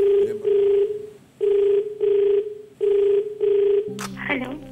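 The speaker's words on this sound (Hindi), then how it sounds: "इनको फोन लगाया जाए।" A telephone rings on the set of the Hindi quiz show Kaun Banega Crorepati, season 8: three evenly spaced double rings, loud and clear, before the call is picked up with a click near the end.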